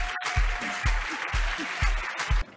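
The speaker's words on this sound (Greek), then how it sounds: "Ένα χειροκρότημα για την ΜΑΕΠΑΙΟ!" An audience applauding prize winners at an award ceremony: dense, steady clapping with rhythmic low thumps running through it, fairly close and loud.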